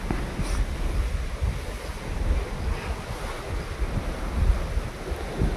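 Gusty wind roars and buffets the microphone outdoors, with a steady surf-like rush and low rumbling thumps for the whole stretch, no voices.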